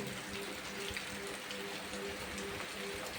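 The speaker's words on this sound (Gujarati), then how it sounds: "આપણી વરસાદ ચાલુ થઈ ગયો" Rain falling on farmland, a steady soft patter with a faint hum in the background, fairly quiet and continuous.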